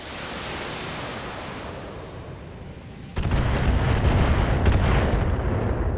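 Turret fire against mechs in BattleTech, a low booming roar of shots that starts abruptly partway through and stays loud, following a quieter rumbling stretch.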